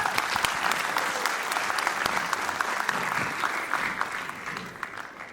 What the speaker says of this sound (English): if we give a round of applause to everyone that serves our children